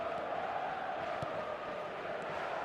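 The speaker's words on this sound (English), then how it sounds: "the crowd have tried to spark some excitement, but to no avail" A stadium crowd in an eFootball match makes a steady, distant murmuring roar with a faint swell of cheering, continuous throughout.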